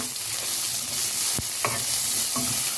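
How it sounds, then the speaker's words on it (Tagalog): Garlic and onion sauté together in a hot pan, a continuous oily sizzle broken by a few quick spatula scrapes and knocks, close and fairly loud with no voices. "haluin lang din natin hanggang maluto yung bawang at saka yung sibuyas"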